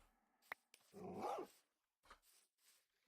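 A Minecraft dog gives a short, faint whining growl between a couple of soft clicks, followed by a few quieter yips in an otherwise quiet game scene.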